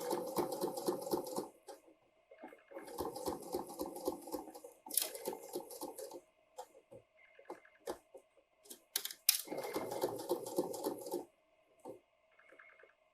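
A home sewing machine stitches an invisible zipper into stretch suede, running in short close bursts of rapid mechanical whirring separated by pauses, with soft handling clicks between runs.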